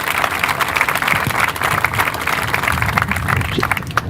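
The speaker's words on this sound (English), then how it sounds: "we can do another round of applause" A crowd at an elementary school groundbreaking ceremony gives a round of applause, loud, dense clapping sustained evenly over several seconds.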